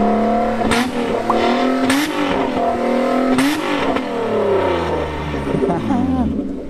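A truck's engine revving hard nearby, loud rising and falling roars repeated several times, with excited voices talking and shouting over it.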